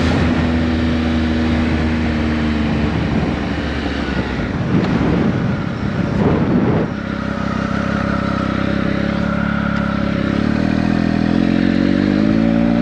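A 2019 Triumph Speed Triple RS with a 1000cc engine drones steadily at close range while riding, its engine note rising and falling under constant wind rush.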